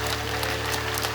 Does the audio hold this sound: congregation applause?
yes